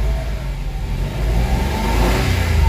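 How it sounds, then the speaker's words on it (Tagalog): Mitsubishi Mirage engine with throttle delay and low power, revving loudly up close with a rising, strained mid-pitched drone that builds toward the end. "So maririnig nyo yung galit ng makina"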